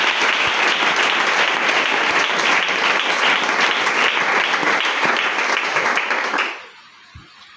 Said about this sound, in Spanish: Puede aplaudir al Señor.